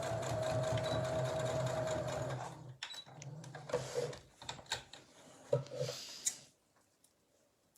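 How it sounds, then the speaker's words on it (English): A sewing machine stitches a drawstring bag in a steady, fast whir for a few seconds, then breaks into short stop-start bursts and clicks before falling silent. "So that is all my machine sewing done now."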